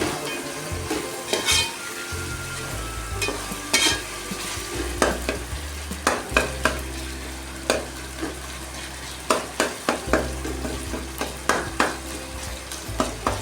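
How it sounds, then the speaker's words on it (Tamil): Ginger-garlic paste and other ingredients for a chicken gravy sautéing and sizzling in a pan, with a utensil stirring and scraping in a steady series of close clinks over the constant frying hiss. "நல்லா வதங்கிட்டுருக்கு"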